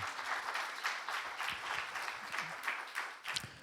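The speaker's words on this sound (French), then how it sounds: "applaudissons celui qui nous donne la vie ce matin" Applause from a church congregation during a morning service, a steady wash of many clapping hands with a few sharper claps standing out, moderately distant and fairly soft throughout.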